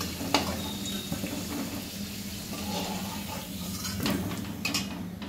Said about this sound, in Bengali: এবার তেলটাই আমি তেজপাতা দিয়ে দিলাম